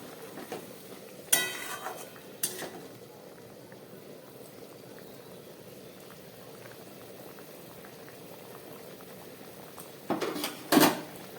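A mustard fish curry with green chillies bubbling in a pan, a soft, steady boil throughout, with louder clinks and knocks near the start and again near the end.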